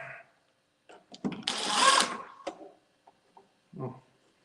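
A screw is driven in to mount a light during evening electrical work, heard as a short whirring burst of a power driver with a few scattered clicks and taps around it, close by.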